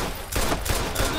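Rapid bursts of automatic gunfire in the Watch Dogs video game, several loud overlapping shots packed into about a second, with no speech over them.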